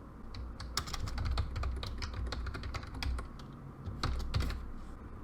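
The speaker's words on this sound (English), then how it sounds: "I'm going to type a password that is something that meets the criteria for the Google password policy" Rapid, irregular clicking of keys on a computer keyboard as a password is typed, close and steady with bursts of keystrokes throughout, no talking.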